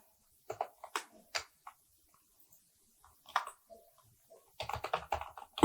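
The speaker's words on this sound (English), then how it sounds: "And here we will type our email." Keystrokes on a computer keyboard entering an email address, quick irregular bursts of close clicks separated by short pauses, ending in a faster run of typing.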